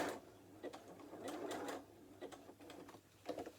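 A sewing machine stitches the joining seam across the raw edges of fabric hexagons for a fat-quarter book cover. Buzzing bursts of stitching start and stop, close but quiet, with no talk.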